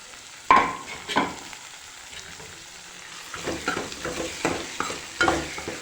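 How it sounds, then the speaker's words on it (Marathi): Chana dal cooking in hot oil: a low sizzle with a sharp clank of a spoon against the pan, then a run of busy stirring scrapes and knocks toward the end. "ह्याला पण ऑइलमध्ये छान असं शिजू देते मी थोडं टाईम"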